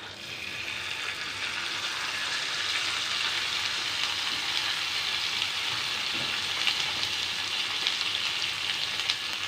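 Tandoori chicken leg pieces sizzle in melted butter in a hot pan, a loud, steady crackling fry that holds evenly throughout with faint scattered pops.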